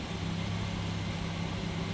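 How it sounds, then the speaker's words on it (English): A 1959 Nash Metropolitan's small 1500 cc inline four-cylinder engine running at a steady idle, an even low hum and rumble heard close up and alone. "What you'd expect out of a 1500 cc. Little inline 4-cylinder."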